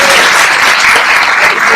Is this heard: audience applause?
yes